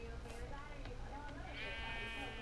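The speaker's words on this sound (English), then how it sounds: "Oh my god, I hear a sheep." Sheep bleating inside the Minecraft video game, a few short wavering bleats mixed with game sounds while a person talks over them.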